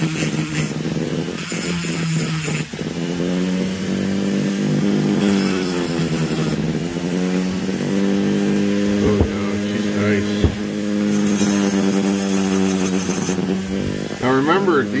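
A grinder works the transfer ports of an Echo 670 chainsaw cylinder, a loud close whine that rises and falls in pitch as it bites and eases off, with a brief pause partway through.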